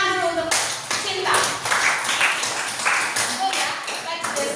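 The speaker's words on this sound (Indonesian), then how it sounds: "Tepuk tangan dulu untuk Cinta." A classroom of pupils claps for a classmate, a burst of many small hands clapping quickly and unevenly, close and bright, with a teacher's voice speaking at the start.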